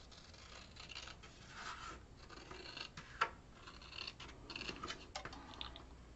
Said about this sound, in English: I'm going to take my scissors and go ahead and cut that.